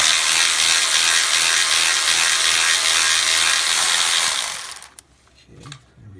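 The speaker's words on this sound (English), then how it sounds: "let's loosen the nut on the line here, the high pressure line" Ratchet wrench on a high-pressure line flare nut of a 2011-2016 Ford F-150 3.5L EcoBoost, a steady close rapid clicking that runs for several seconds and then stops abruptly.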